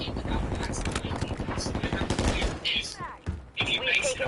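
Rapid automatic gunfire from a Modern Warfare 3 multiplayer match, dense bursts of shots rattling almost continuously for several seconds with a brief lull near the end, voices talking over the fire.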